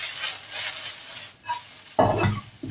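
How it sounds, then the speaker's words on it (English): Chicken chow mein noodles fry in a pan on an electric hob, a steady sizzle with stirring scrapes that swells in bursts and turns louder and closer near the end. "that's just frying"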